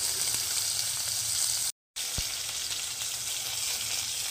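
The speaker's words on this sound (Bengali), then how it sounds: "মাছগুলো এখন আমি লাল লাল করে কিন্তু ভেজে নেব" Pieces of katla fish fry in hot oil with a loud, dense, continuous sizzle close by, broken by one brief gap of silence and a single low knock.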